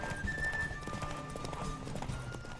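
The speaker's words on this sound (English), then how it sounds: "now that we are galloping" A horse gallops in The Witcher 3 during a race, its rapid rhythmic hoofbeats clip-clopping steadily and fairly faintly over a busy game background.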